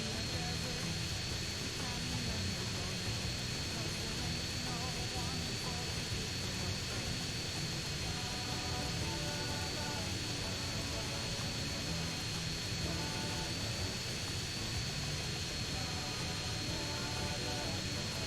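Steady jet engine drone of a military plane being flown slowly in GTA San Andreas, a constant broadband roar throughout with someone talking over it.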